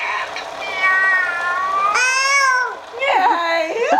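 A baby imitates a cat with a run of high, wavering meows, several drawn-out mewing cries in quick succession, loud and close, with no other sound around them.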